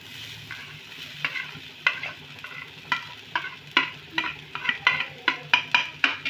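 Grated paneer stirred with onions in a pan over very low heat, a soft steady sizzle broken by repeated scraping strokes of a spatula that grow more frequent and sharper toward the end.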